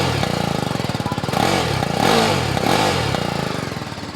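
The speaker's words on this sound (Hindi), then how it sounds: "It's a single cylinder motor guys, you cannot expect it to sound like a BMW S1000 RR" A BMW G310R single-cylinder motorcycle engine runs close and loud, its rapid thumping pulse rising in short revs and falling back between them.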